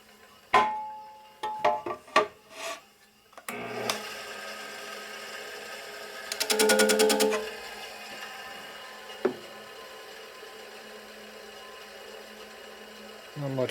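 Bench grinder whirring against a 1950 Harley panhead rocker arm, a loud steady grind of about two seconds midway, with scattered knocks and clicks before it and a low motor hum running throughout.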